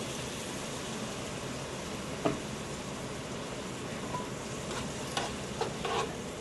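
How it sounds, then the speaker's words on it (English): Mushrooms and garlic deglazed with white wine in a warm pan give a steady, close sizzle, broken by a few soft spoon scrapes and clicks. "as this melts and your pan is nice and warm, deglaze with a bit of white wine."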